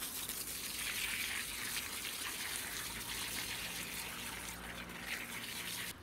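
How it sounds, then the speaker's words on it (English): A garden hose blasts water onto the soil of a water chestnut planting, a loud continuous broadband gush and spray running steadily close to the mic with no talk. "So I might just blast this one with the hose just to see if I can find any more corms up there in the center."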